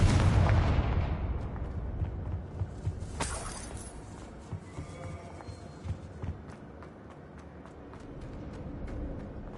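A loud spell explosion from sorcery in Elden Ring opens with a heavy boom, then fades into a low rumble. Scattered crunches and steps follow.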